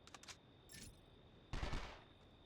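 Gunfire in the video game 24: The Game, a few quick faint pops early on, then a louder burst of shots about two-thirds through, with no talk.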